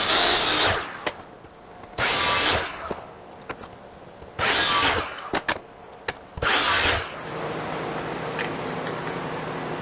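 A power tool cuts through a wood and epoxy resin coaster blank in four loud whining bursts of about a second each. Quiet gaps and small clicks fall between them, followed by a steady lower hum.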